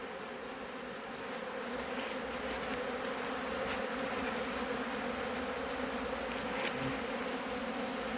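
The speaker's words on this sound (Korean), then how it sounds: "야, 벌이 엄청나게 가요." A dense swarm of honeybees hums steadily and continuously around the hives during the annual honey harvest, a loud close buzz that fills the whole stretch without any voices.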